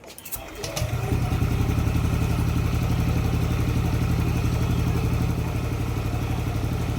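Yamaha Aerox or Nmax scooter with a suspect charging and starter relay cranks briefly with a click and whir, then fires and settles into a steady, even idle at close range.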